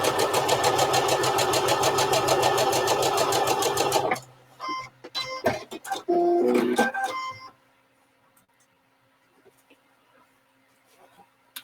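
A sewing machine runs steadily at close range while stitching a quilt block seam for a disappearing nine patch, then halts abruptly, followed by a few short stop-start bursts before falling quiet.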